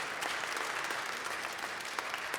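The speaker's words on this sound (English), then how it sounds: "again with applause, again" Steady studio audience applause on a live current-affairs talk show, a dense even wash of many hands clapping at moderate distance, sustained without pause.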